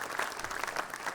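Loud, dense applause from a large audience honouring the Vice President at a Silver Jubilee celebration, steady clapping filling the whole stretch without voices.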